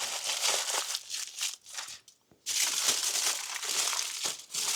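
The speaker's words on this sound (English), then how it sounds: "The muffin foil." Muffin foil is crinkled and crushed by hand up close, giving a loud, continuous papery rustle with a brief pause in the middle before the crumpling resumes.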